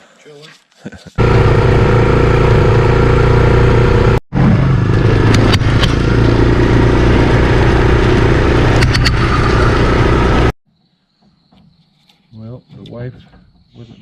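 Four-wheeler ATV engine running loud and close, a steady rumbling drone with one brief cut, then stopping, after which a person talks.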